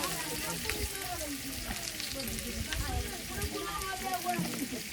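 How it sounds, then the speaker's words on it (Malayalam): Chopped onions sizzle and crackle in hot oil in a pan at an outdoor village kitchen in Africa, a steady broadband fry with soft stirring scrapes, close and constant throughout. "ഉള്ളിയൊക്കെ അരിഞ്ഞത് എണ്ണയ്ക്ക് ചേർത്ത് കൊടുക്കാം."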